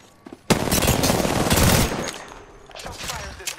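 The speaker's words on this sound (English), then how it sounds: "Shot fired at me." Rapid automatic gunfire from Apex Legends erupts after a short pause and rattles in dense, loud bursts for over a second, then gives way to scattered, more distant shots.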